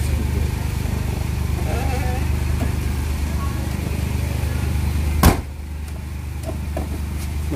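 A Honda i-DSI engine in an automatic car idles in a garage with a steady low rumble and hiss, broken by a sharp click partway through, after which the hum continues slightly quieter.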